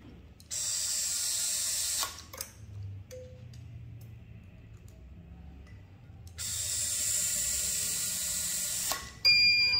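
An ASA electric screwdriver with a timing function drives screws, two loud whirring runs of about two and three seconds each ending in a click, separated by quiet handling.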